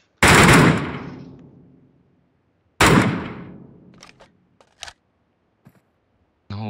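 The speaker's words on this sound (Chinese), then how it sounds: "那我继续开枪引他。" Gunfire in a shooter video game: two loud, booming shots several seconds apart, each ringing out into a long fading tail, followed by a scatter of faint clicks and taps and a final sharp burst.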